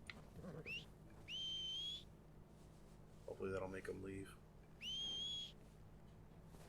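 A video game character in Red Dead Redemption 2 whistles to scare off nearby animals, giving two short rising whistles and then a third, clear and fairly close, with brief talk in between.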